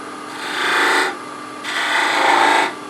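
Wood being cut on a lathe with a skew chisel while turning a multi-axis bird makes two sustained rasping, hissing cuts, each about a second long, separated by a short pause, close and fairly loud.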